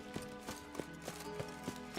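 A horse's hooves clip-clop at a steady walking rhythm in The Witcher 3, evenly spaced soft thuds over a low game ambience.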